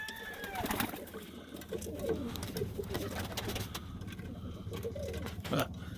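Roller pigeons coo softly in a repeating low burble amid rustling and background noise, with a few sharper bird calls near the end.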